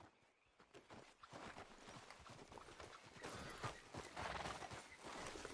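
Steady horse hooves clip-clop at a walking pace in a video game, with occasional whinnies and ambient game sounds, continuous and moderately loud throughout.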